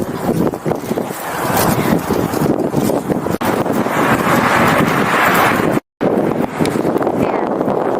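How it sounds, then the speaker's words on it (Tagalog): Strong wind roars into the microphone for several seconds on a street in Shinjuku, Tokyo, loud and gusty, with a brief dropout near the end before the blustering resumes. "Ayan yung hangin."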